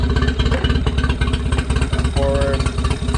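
A small outboard motor chugs steadily at idle, loud and close, with a fast regular firing pulse and some clatter; it runs a little unevenly, and a fuel-starved carburetor is in need of cleaning.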